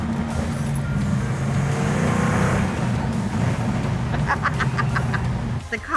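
A show car's engine runs at a car show, holding a steady, close-up growl that swells slightly and then drops near the end.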